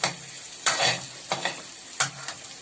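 A spoon stirs onion, potato, ginger and garlic in a pan for ginataang halaan, with three or four distinct scraping strokes over a soft, steady sizzle, heard close and alone.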